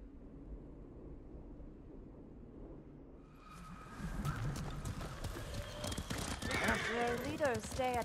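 Horse hooves clip-clopping in Ghost of Tsushima, a steady rhythmic gallop that starts quietly and grows louder and closer partway through, with a whinny and game speech layered over it.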